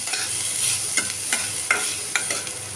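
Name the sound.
onions frying in a pan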